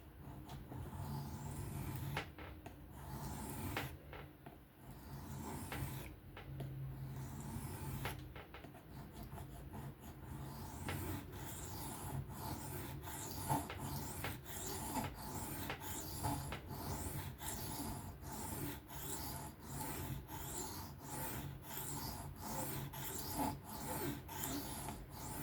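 Steady rasping strokes of a Civivi Yonder knife with a 14C steel blade being sharpened freehand on a stone, repeated rubbing passes at close range with no talking.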